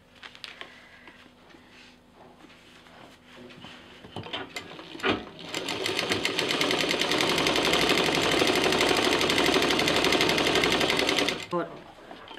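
Sewing machine stitching a zip onto a fabric sling bag, quiet handling and a voice at first, then a steady fast whirring run of stitches for several seconds before stopping abruptly.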